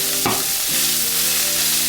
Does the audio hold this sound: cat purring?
no